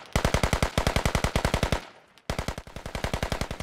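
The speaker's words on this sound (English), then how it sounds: "someone just shot you as soon as you got up." Rapid automatic gunfire in the Squad video game, heard as two long, evenly spaced bursts of sharp, close shots separated by a short pause.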